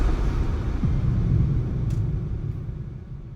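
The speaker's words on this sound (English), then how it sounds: "I added in a little bit of a thunder echo to try to add some spatial sound to it and depth" Deep, continuous thunder-like echo rumble used as a logo sound effect, a low rolling swell that holds steady and fades slightly toward the end, with no voices.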